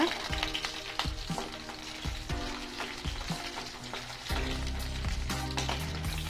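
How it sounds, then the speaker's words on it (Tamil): Garlic cloves hit hot oil with dried red chillies in a pan for tomato chutney, giving a loud, steady sizzle broken by scraping spatula strokes and a sharper burst of frying near the end. "பூண்டு போட்டுக்கலாங்க"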